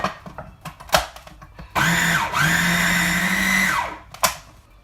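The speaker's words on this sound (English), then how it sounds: "this is how it is looking as we grind it up" Split peas for dahl grinding in an electric kitchen grinder, a loud steady motor whine that dips briefly in pitch midway and runs about two seconds before cutting off, with clatter and knocks before and after.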